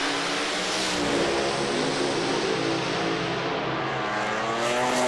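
Pro Alcohol dragsters launch side by side on a qualifying run at an East Coast Thunder drag meeting in Sydney, a loud sustained roar that stays powerful and continuous throughout, with no voices.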